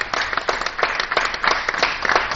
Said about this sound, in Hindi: एक बार जोरदार तालियां होनी चाहिए इस सम्मान के लिए।